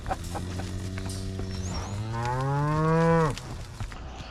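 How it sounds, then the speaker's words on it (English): Cattle out on pasture give two long moos: a low, drawn-out call followed by a louder, rising bellow that breaks off abruptly, close by and clear. "This is our favorite time of the year for the cows, when you get them out on pasture."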